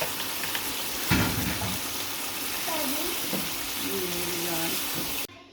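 Spiced yogurt poured into a frying masala for achari chicken, giving a steady sizzle with a sharp hiss as it lands, then continued frying and stirring. A voice speaks briefly over the cooking.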